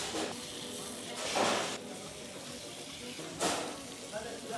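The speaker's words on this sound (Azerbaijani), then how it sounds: "Bu kərə yağı tam ərinməmiş, bu ətləri yığırıq bura." Meat sizzling in melting butter in a pan, cooked outdoors: a steady frying hiss with a couple of louder sputtering bursts as pieces hit the fat.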